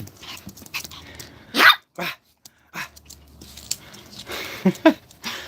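Pet dogs barking indoors in short, scattered bursts, a couple of sharp loud barks standing out over quieter low background noise.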